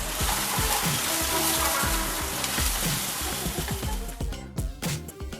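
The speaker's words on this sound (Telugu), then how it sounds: "కొన్ని ఆవాలు వేగిన తర్వాత కొన్ని ఉల్లిపాయలు వేసుకోవాలి" Onions hiss and sizzle in hot oil with mustard seeds and cumin, a steady close crackling with small popping bursts throughout.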